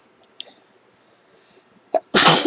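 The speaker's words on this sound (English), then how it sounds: "I'm gonna sneeze again." A woman sneezes loudly while doing her makeup. There is a sharp intake of breath, then one strong, close sneeze at the very end, after near silence broken only by a couple of faint clicks.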